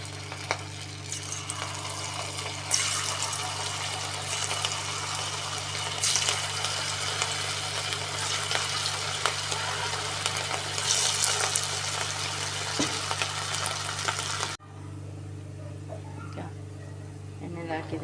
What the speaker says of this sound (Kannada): ಈಗ ಎಣ್ಣೆ ಕಾಯಕ್ಕೆ ಇಟ್ಕೊಂಡಿದ್ದೆ, ಎಣ್ಣೆ ಕಾದಿದೆ. ಇವಾಗ ಒಂದೊಂದಾಗಿ ಬಿಡ್ತಾಯಿದ್ದೀನಿ.